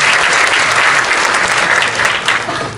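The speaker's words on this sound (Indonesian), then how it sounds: "Tepuk tangan buat teman-teman semua." An audience at a talk on meritocracy in government breaks into loud, sustained applause, a dense wash of clapping that holds steady and then begins to ease toward the end.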